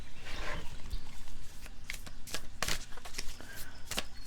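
Tarot cards are shuffled and drawn by hand, giving soft papery rustling with several crisp slapping snaps as cards are pulled and laid down, close and fairly quiet.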